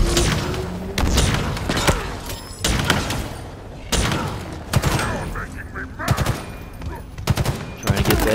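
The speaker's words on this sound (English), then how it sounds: "Disruptor fire." Bursts of Disruptor weapon fire in Halo Infinite during a firefight with grunts and jackals, sharp repeated shots and impacts in clusters, with someone talking over the action.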